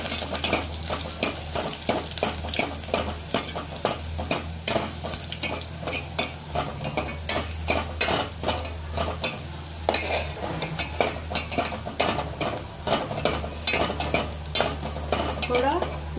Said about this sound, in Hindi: लहसुन डालूंगी, ये थोड़ा पकने के बाद प्याज डालेंगे।